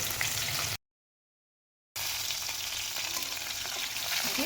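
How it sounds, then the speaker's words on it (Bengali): Bhetki fish fillets frying in oil, a close, even crackling sizzle, with a brief dropout of silence early on before it resumes steadily. "মাছটা দুই লাল লাল করে সুন্দর ভাজা হয়ে গেছে"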